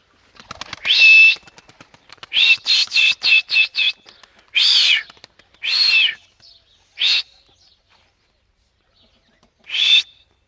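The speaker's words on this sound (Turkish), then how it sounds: "Bugün dişi kuşumuzu uçuracağız." A female pigeon takes flight, its wings beating in a quick run of loud, sharp flaps, then in a few separate bursts with short silences between.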